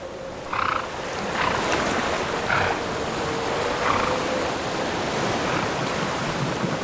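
Icy, rough river water in winter sleet and snow rushes in a steady broadband wash, with faint higher tonal blips over the churning flow, no voices.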